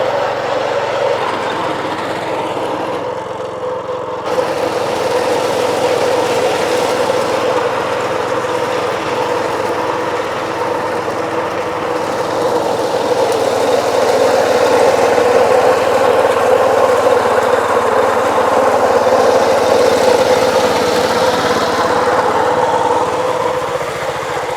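A New Holland 4510 tractor runs a hydraulic-motor-driven reaper cutting a crop in a field, a loud, steady engine drone that holds for the whole stretch with no talk over it.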